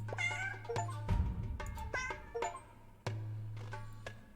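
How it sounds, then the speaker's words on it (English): Repeated cat meows from the video game 100 Cats, several distinct cries spaced across the moment, clear and close over a steady low game music hum, with no talking. "There's a cat in these trees and on the roof."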